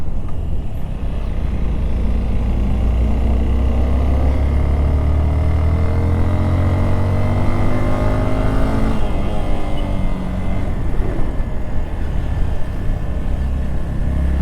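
A vehicle engine labours up the steep, high-altitude mountain road from Hanle toward Umling La pass, holding a loud, droning low growl in a low gear with a pitch that climbs and dips as it strains, and no speech.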